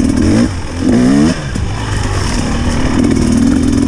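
Husqvarna TX300 two-stroke motorcycle engine with a Keihin PWK carburetor, heard close and loud, rising in a couple of quick throttle blips before settling into a steady rough idle.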